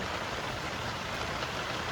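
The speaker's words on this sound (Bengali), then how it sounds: "চারিদিকে দেখো বৃষ্টি পড়ছে, অন্ধকার হয়ে আছে।" Steady rain falls with an even, dense hiss, close by and unbroken throughout the short stretch.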